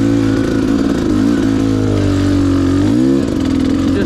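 A dirt bike engine revs hard and close while the clutch slips, holding a loud, continuous buzzing drone that rises and falls slightly in pitch.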